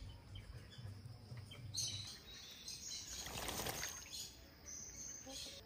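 Pigeon splashing and flapping its wings while bathing in a tub of water, a burst of wet fluttering and splashes up close with faint background noise.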